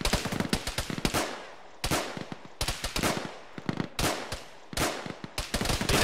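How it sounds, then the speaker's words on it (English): Pistol shots in the ShackTac military video game, sharp cracks fired in quick clusters separated by brief pauses, loud and close, some volleys overlapping with other gunfire. "You know it's going well when you hear pistols"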